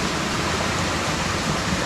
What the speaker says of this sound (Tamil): அதாவது இது அந்த அருவி